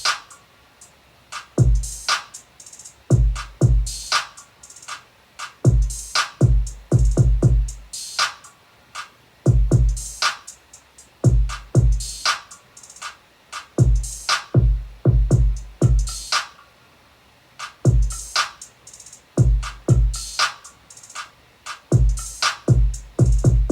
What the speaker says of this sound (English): when you put all those drum elements together, you get the bounce for the song that sounds like this